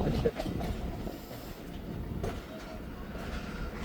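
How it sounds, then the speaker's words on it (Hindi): The Thal Express train pulling out of Kuniya Junction, a steady low rumble of rolling wheels and carriages heard from on board, with a voice talking over it. "कुनिया जंक्शन से ट्रेन रवाना हो रही है हमारी"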